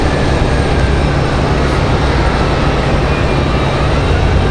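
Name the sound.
Alaska Airlines plane arriving from Seattle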